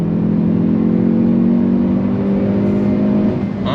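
A 2022 Hyundai Veloster N hot hatch accelerates hard in third gear, its engine droning loud and steady from inside the cabin with rising harmonic tones, then easing off near the end.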